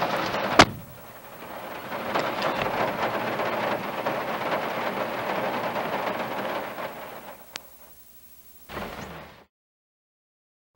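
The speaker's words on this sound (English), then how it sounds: "Raining out there, can you tell?" Steady rain falling outdoors along a trapline, a continuous broadband hiss lasting most of the clip, with a couple of sharp door-like knocks before it stops abruptly near the end.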